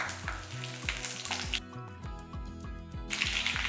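Thin slivers of garlic with mint leaves, frying in oil for a millet and liver fry, giving a soft continuous sizzle under background music with bouncing melodic notes.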